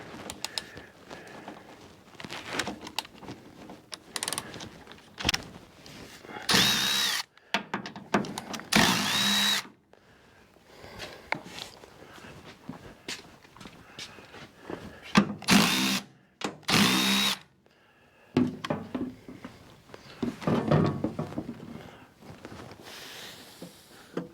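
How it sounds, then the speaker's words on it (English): A power drill loosening the bracket bolts on a vehicle hardtop during installation, giving several short, loud bursts of whirring separated by quieter gaps with handling noises and faint movement. "We'll loosen these bolts up here."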